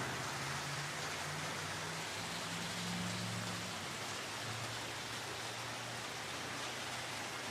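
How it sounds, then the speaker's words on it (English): Rain falls on a tent in a dense, even hiss that holds steady throughout, with a faint low hum running underneath for the first half. "Well, the rain is kind of putting a damper on my party."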